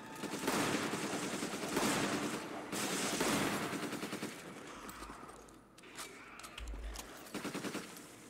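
Rapid gunfire in the Resident Evil 5 video game: repeated bursts of loud automatic shots with brief pauses, dense and close, continuing in rhythmic clusters.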